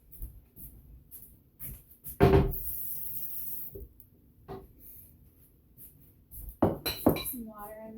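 Water runs from a kitchen tap while a breakfast casserole is thinned, a loud steady gush of about a second and a half set among quieter kitchen knocks, with talking nearby.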